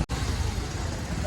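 Steady low rumble of road traffic on a busy Friday night street, cars and other vehicles passing in a continuous wash, with a brief dropout at the start and some faint background chatter.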